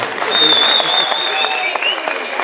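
A crowd breaks into applause that swells quickly and holds steady, with a whistle or cheer riding faintly above the clapping.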